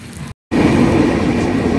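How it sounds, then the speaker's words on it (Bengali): Jalpaiguri Road–Sealdah Humsafar Express pulling out from platform 1 at Jalpaiguri Road, a loud, steady rumble of wheels and coaches rolling past close by after a brief cut to silence. "Jalpaiguri road Sealdah Humsafar express train Jalpaiguri রোডের 1 নম্বর প্ল্যাটফর্ম থেকে দেখতে পাচ্ছেন চলে যাচ্ছে"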